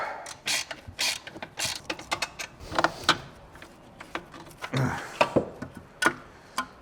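A 21 mm ratcheting wrench loosens the ball joint nut on a BMW E39 530i Touring while a 10 mm deep socket holds the stud. Close, crisp bursts of ratchet clicks repeat in short, uneven strokes.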